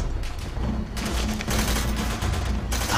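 Gunfire in the video game Call of Duty: World at War, a dense, continuous battle din of rapid shots and bursts that runs loud through the whole stretch, with no voices over it.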